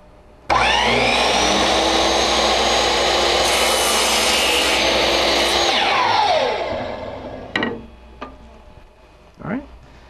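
A power saw cuts a 45-degree mitre through wood for a picture frame: a loud, steady whine that starts abruptly, holds for about six seconds, then spins down, followed by a few clunks.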